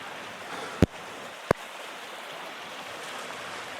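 A river running beside a remote off-grid cabin, with a steady broadband rush of flowing water throughout and two sharp knocks partway through, no voices.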